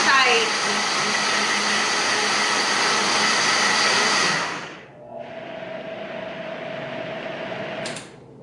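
A blender whirs loudly through watermelon for juice, then drops to a lower steady hum with a faint tone after about five seconds before cutting off.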